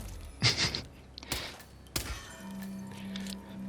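Guard struck on the head in Hitman 2: a couple of short, dull thunks land over quiet game ambience, followed by a low steady hum.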